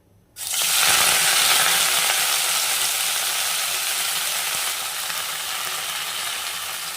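A sudden loud sizzle erupts as ponnanganni greens hit hot oil, then settles into a steady crackling fry that eases slightly toward the end.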